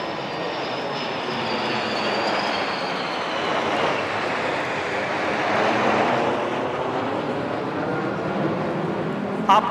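Indian Air Force aircraft flying in Dhanush formation over Marina Beach in Chennai produce a loud, sustained jet roar that swells and eases as they pass, with a crowd and announcer voices underneath.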